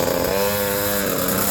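A SYX-R 50 motorcycle's small engine runs steadily at a close, loud idle with a buzzy, even drone and no talking over it.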